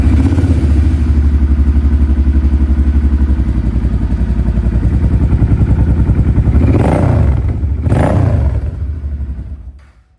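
Heavyweight motorcycle engine running loud and close, a dense throbbing idle with rapid pulsing exhaust beats, a couple of brief revs near the end before the sound cuts off, no talk.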